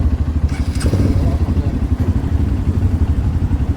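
Trail motorcycle engine in Jogja, started with its starter and then running close by at a steady, throbbing idle with some mechanical clatter and no talking.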